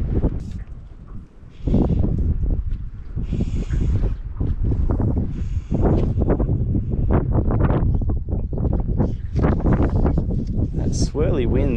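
Gusty, swirling wind at a lake in Tasmania buffets the microphone in heavy low rumbles, nearly continuous, with a person talking intermittently underneath.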